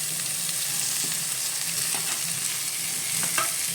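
Tomato has just gone into a pan of chicken frying with ginger and garlic, giving a steady close sizzle with occasional stirring scrapes and no voices.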